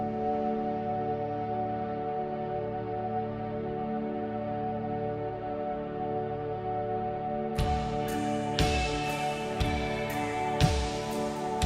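A slowed shoegaze-style remix of a pop song, built from stems at about half speed with added synth, doubled drums, delay and reverb: a sustained, droning chordal wash, then heavy reverberant drum hits join partway through.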